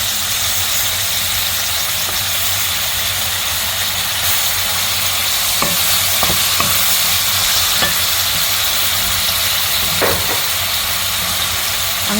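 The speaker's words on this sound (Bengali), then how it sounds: "আমি শুটকিগুলো দিয়ে দিব তেলের ভিতরে" Dried fish frying in hot oil for a shutki bhuna, a steady loud sizzle throughout with a few stirring clinks near the end, no talking.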